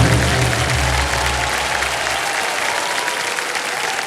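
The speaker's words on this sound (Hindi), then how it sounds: "और तालियां बजती रहें जोरदार" Loud, dense applause from a studio audience at a televised quiz show fills the room, sustained and close, tapering slightly toward the end with no voices over it.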